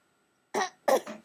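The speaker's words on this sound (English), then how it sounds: "Are you coughing?" Two quick coughs, one short and one with a doubled burst, sound close and clear after a second of silence.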